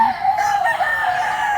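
A rooster crows once up close, a loud, sustained, slightly wavering call filling the brief moment with little else around it.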